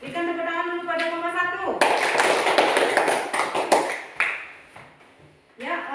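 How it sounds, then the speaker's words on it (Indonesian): Students in a classroom break into a burst of clapping for a presenting group, a loud, scattered patter that starts abruptly after a teacher's voice and fades in uneven waves. "Berikan tepuk tangan dulu pada kelompok"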